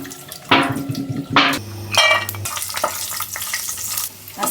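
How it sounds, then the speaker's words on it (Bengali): Nuts slowly frying and being stirred in a pan for a birthday meal, with scraping stir strokes and a steady sizzle, plus a low hum and running-water sounds in the background. "আস্তে আস্তে ভাজতে হবে, নাহলে পুড়ে যায়। বাদাম খুব চট করে লাল হয়ে যায়।"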